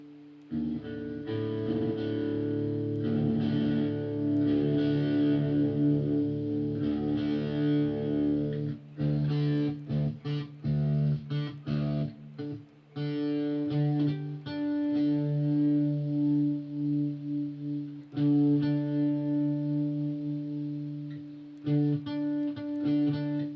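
Several layered electric guitar parts with heavy distortion and effects, some played with hybrid picking, sustained chords and busy riffs ringing loud and continuous with short breaks and reverb tails.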